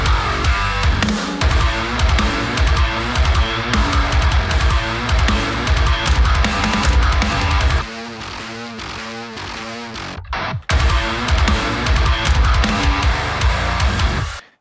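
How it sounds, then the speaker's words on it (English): A heavy metalcore bass riff chugs in rhythmic, distorted bursts with a synth layer tracking it underneath, dense and loud, dropping to a thinner stretch midway, a brief gap, then resuming at full weight. "we are going to make a synth that follows this underneath of it"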